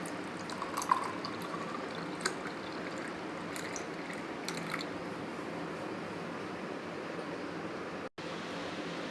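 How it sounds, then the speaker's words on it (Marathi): Strawberry shake poured from a blender jar into a glass, a quiet, steady liquid stream with a few faint drips and clinks, close by and without talk. "आता एका ग्लासमध्ये ओतून घेऊया आपण"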